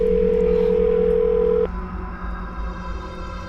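A steady telephone ringback tone sounds for a second and a half, then cuts off, leaving a low hum on the line.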